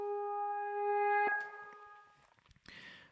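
Reversed guitar track in Logic, sustained tones swelling loudly before breaking into scattered short bursts, with a brighter noisy burst at the end.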